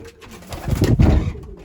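Tumbler pigeons coo close by, a low soft throaty burble that swells and fades within a second or so, alone without talk.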